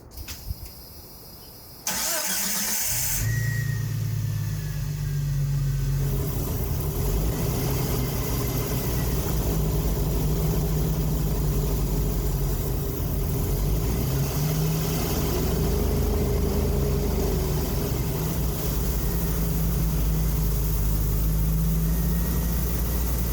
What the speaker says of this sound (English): let's start this up and get the rest of this in the throttle body